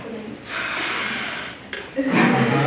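A person imitating the breathing of an anxious person during a talk: quick audible gasping inhales and snorting exhales in short bursts, close and fairly soft.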